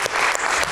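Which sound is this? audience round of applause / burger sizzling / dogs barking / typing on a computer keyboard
audience round of applause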